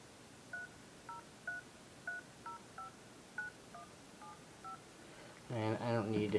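A phone keypad sends a series of about eleven distinct dialing tones, evenly spaced and fairly clear, followed by a louder burst of ringing or call-connection sound at the end.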